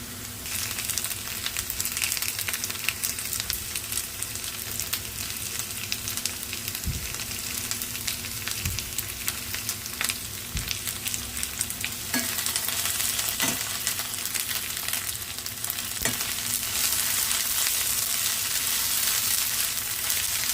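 Ginger sizzles steadily in hot oil in a pan with fried onions, for an egg burji, a continuous bright hiss broken by a few sharp scrapes and clinks of a spoon stirring, with no voices.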